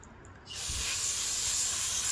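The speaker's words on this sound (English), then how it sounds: "I want to spray some stuff through there and make sure" Aerosol spray blasted through a dirty, grimy part that had been sitting out in dust, a sudden steady loud hiss starting after a brief quiet and continuing to the end.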